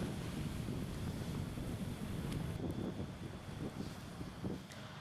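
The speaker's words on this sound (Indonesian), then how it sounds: "cuaca buruk berupa angin kencang, arus deras, dan gelombang tinggi" Strong wind and high waves at sea in the Bali Strait, a rough, steady roar of gusting wind over churning water, with rumbling low surges and moderate loudness throughout, no voices.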